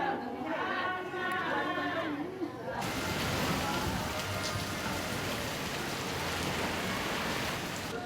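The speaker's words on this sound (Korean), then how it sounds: "열대 지방답게 오후 3시만 되면 소나기 스콜이 내린다." Tropical afternoon rain squall in Malacca. Voices come first, then heavy rain abruptly starts pouring and stays loud, steady and close for the rest of the clip.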